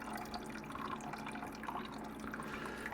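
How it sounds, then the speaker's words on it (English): Chicken broth poured into a cooking pot for white chicken chili, a steady continuous liquid splash and gurgle at moderate level without pause, heard alone with no talking. "we're going to continue to get this broth going in here"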